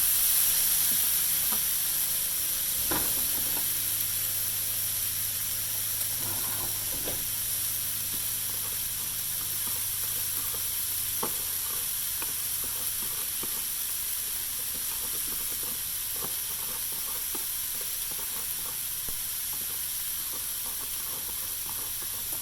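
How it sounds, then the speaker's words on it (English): Pork sizzling in a hot pan while a spoon stirs it, a steady hiss of frying with faint scraping and clinks scattered throughout. "What am I going to stir this with? Just a spoon will be fine."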